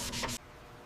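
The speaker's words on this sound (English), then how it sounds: "Sanding helps blend these repairs seamlessly into the original structure" Weld repairs on a fire-damaged Lamborghini Gallardo body are sanded in a brief, loud abrasive rubbing burst of a couple of strokes that stops abruptly.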